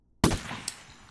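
A single sharp sniper rifle shot in the zombie shooter game Zombie Raid, loud and close, followed by a short decaying tail and a faint mechanical click.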